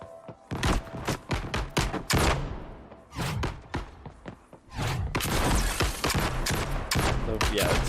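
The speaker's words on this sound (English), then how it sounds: "I hear gunshots now" Rapid bursts of gunfire from the Lyra Starter Game in Unreal Engine 5, loud repeated shots and thuds crowding together into a dense, continuous volley by the end.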